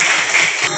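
Students clap together in a rural high school hall in Jamliya village, Dharampur taluka, at a world peace day program. The applause is brief, loud and close, cutting off sharply near the end.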